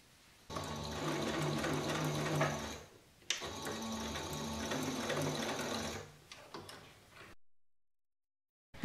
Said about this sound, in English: I'm going to put a couple of stitches at each side seam on the inside.